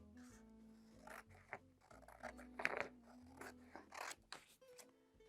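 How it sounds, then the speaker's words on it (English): Scissors cutting paper in a craft setting, a few quiet snipping and rustling strokes spread irregularly across the stretch, close but faint with no talking. "So I'm just going to take my scissors now."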